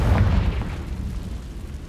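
A Confringo blasting spell in Hogwarts Legacy erupts as a heavy, booming explosion with a deep rumble that fades away over about two seconds, loud and alone.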